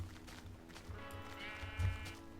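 A single Minecraft sheep lets out a short, wavering bleat in the middle of quiet in-game background sound.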